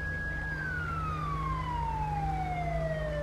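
An ambulance siren in the video game GTA V with the LSPDFR police mod, a single long tone sliding steadily downward in pitch as the vehicle passes, over a constant low engine and road rumble, fairly faint with no talk.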